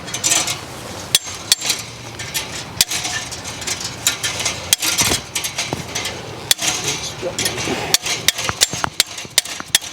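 A hammer and pliers close crimps onto mesh fencing wire. Sharp metallic strikes fall at an irregular pace, about one per second, with scraping and rattling of the wire in between.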